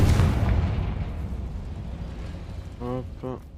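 A Confringo fire spell goes off in Hogwarts Legacy with a loud, low boom that decays into a rumbling tail, followed by brief tonal game effects near the end.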